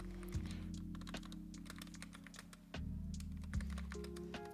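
Rapid typing on a computer keyboard, a steady run of close, crisp key clicks with a few heavier thunks, heard alone over a low background hum.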